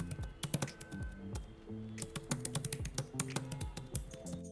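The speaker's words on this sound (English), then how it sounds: "It is mentioned on the box that it has scissor switches, so here's the typing ASMR." Rapid, uneven keystrokes clatter on a foldable scissor-switch keyboard, close and crisp, with a few heavier thumps from larger keys such as the space bar, steady for several seconds with no voice.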